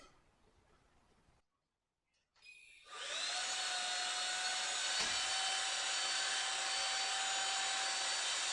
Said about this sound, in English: you just need to get your vacuum cleaner and get all this dust out of this